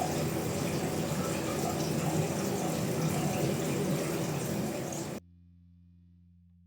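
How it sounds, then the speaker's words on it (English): Steady rushing water flows into a 450-year-old samurai hot spring in Japan, a dense continuous wash that cuts off abruptly near the end, leaving only a quiet low hum. "The soothing sound of the water creates a luxurious moment of solitude."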